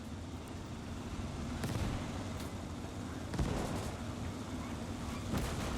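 Artillery shells land in the World War II game Gates of Hell, a rolling series of heavy booming impacts with several sharper blasts standing out against constant background battle noise.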